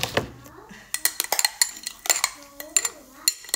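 A metal spoon stirs Milo into Coke in a glass, giving rapid clinks and scrapes against the sides in an uneven rhythm, close, with a voice talking faintly under it.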